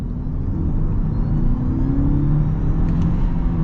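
A 2023 Mitsubishi Outlander PHEV accelerating in power mode gives a steady, loud low rumble and motor whir that holds evenly throughout, with no talking.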